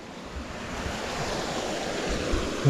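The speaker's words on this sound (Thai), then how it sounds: "น้ำกำลังมาน้ำกำลังมา" Rushing water flows in with a steady, broadband wash like surf or a fast stream, close and fairly loud, with wind buffeting the microphone and no talking.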